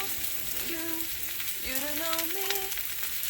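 Sliced onions frying in oil in a skillet for Philly cheesesteak give off a steady, even sizzle that runs throughout, with faint tonal hums drifting over the crackle.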